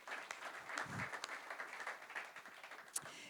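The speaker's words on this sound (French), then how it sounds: "vous pouvez l'applaudir" Audience applause at a plenary session of a citizens' summit on autocracy versus democracy, a faint, thin patter of scattered clapping in a large hall, fading toward the end with one sharper clap near the close.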